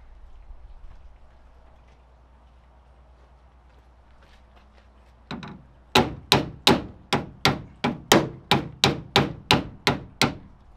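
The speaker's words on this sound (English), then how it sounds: "Bang this out right here." Hammer striking metal on a Toyota Tacoma during a CB radio install, about a dozen loud, evenly spaced close blows in a steady rhythm after a couple of lighter taps, with no talk.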